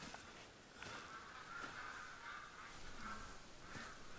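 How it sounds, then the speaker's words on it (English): Ducks call faintly in the distance in the hunting game theHunter: Call of the Wild, a few soft quacks over quiet ambient wilderness noise. "Oh, ducks. That's what I was hearing."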